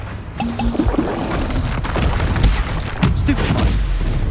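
Confringo fire spell blasts in the Hogwarts Legacy video game, a loud dense stretch of booming explosions and crackling bursts with impacts around the two and three second marks, amid combat noise.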